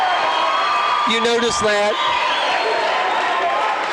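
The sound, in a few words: hostile basketball crowd in a high school gym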